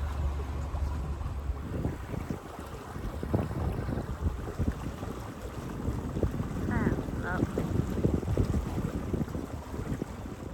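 A canal boat's motor labours slowly with weed fouling its propeller on a rural canal branch, a steady low churn mixed with water sounds and wind buffeting the microphone.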